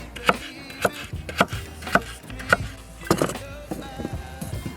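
A knife chops food on a cutting board in quick, regular strokes, about nine sharp knocks spaced roughly half a second apart, close by, while cooking outdoors on a summer camping and fishing trip by the Dnieper.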